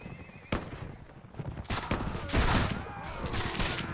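Musket volleys in the video game Mount & Blade: With Fire and Sword, sharp cracking shots, one sudden report then overlapping crackling gunfire building into a rolling fusillade, with horse whinnies mixed into the battle din.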